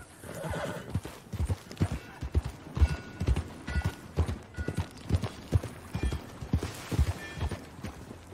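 Rhythmic hoofbeats clip-clop at a steady walking pace in Red Dead Redemption 2, with a horse whinnying partway through and faint background ambience.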